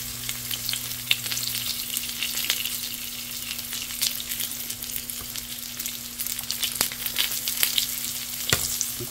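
Sliced bitter gourd and onions fry in a pan, crackling and popping continuously with scattered sharper spits over a low steady hum, close and clear with no talking.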